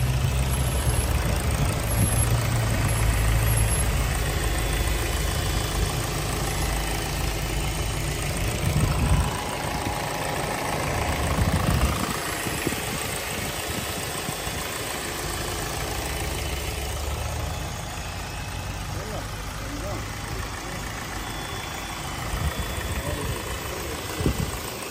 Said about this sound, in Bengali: এই দেখেন ইঞ্জিনের সাউন্ডটা দেখেন